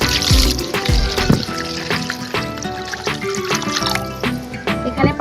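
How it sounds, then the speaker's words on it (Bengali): Water pours and trickles into a wok already holding a mixture, a close, continuous splashing stream with gurgles and clinks of the vessel. "এই পাত্রের মধ্যে পানি দিয়ে পানিটা কড়াইতে দিয়ে দেবো।"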